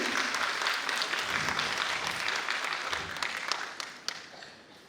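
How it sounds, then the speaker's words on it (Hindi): Warm audience applause for an honoured guest at a community program in Ranchi, Jharkhand, starting full and gradually thinning out, with a few last claps before fading. "हमारे पीछे जोरदार तालियां एक बार"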